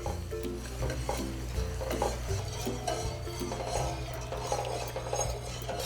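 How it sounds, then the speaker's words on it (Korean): Caramel with black garlic juice and cream stirred in a pot while heating: repeated scraping strokes and soft clinks of the utensil over a quiet bubbling sizzle and low hum, close up, with no speech. "이렇게 가열하면서 저어주면 되는데요"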